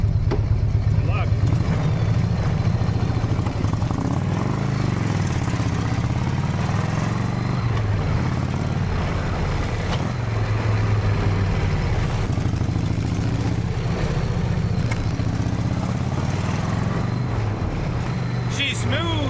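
An old barn-find motorcycle engine runs rough and uneven, a steady loud mechanical drone with wavering pitch that persists throughout, as if on the verge of stalling.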